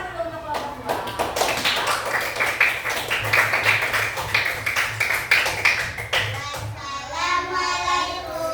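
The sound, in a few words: class applauding group 2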